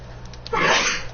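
One person sneezes once, short and breathy, close by over a faint steady hum.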